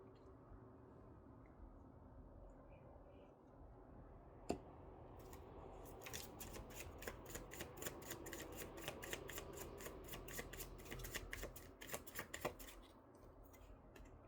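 Tarot cards being shuffled, a faint run of quick crisp riffling snaps, close but quiet, starting after a few seconds of near silence and stopping before the end.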